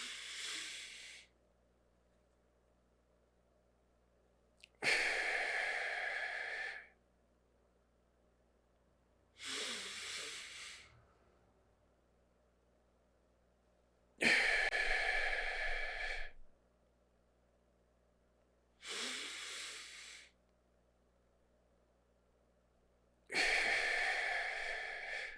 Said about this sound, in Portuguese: 4 segundos inspirando, 4 segundos trancando a respiração, 4 segundos soltando e mais 4 segundos mantendo a respiração esvaziada